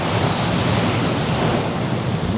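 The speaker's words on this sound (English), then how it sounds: "I'm very cautious of those waves." Big sea waves breaking and surging on a beach, a continuous loud wash of surf with wind noise buffeting the microphone.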